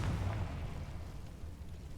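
A Confringo fire-blast spell explodes in Hogwarts Legacy, a single low boom at the start that rumbles and fades into a dull, steady roar with no voices.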